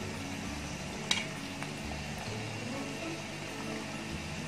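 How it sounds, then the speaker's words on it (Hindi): Spice powders (red chilli, coriander, turmeric) dropped into a hot karahi for smoky beef karahi, a soft low sizzle with a sharp clink of a spoon on the metal pan and faint stirring, no talk. "तो ये सारे मसाला जात जो हैं वो हम कढ़ाई में ऐड करते हैं।"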